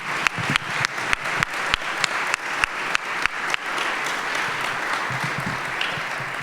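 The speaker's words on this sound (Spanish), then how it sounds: "creo que merecen los ponentes un fuerte aplauso" Applause from a seated audience for the speakers at a maritime history conference session, starting as scattered sharp claps and swelling into a dense, steady ovation that fills the room.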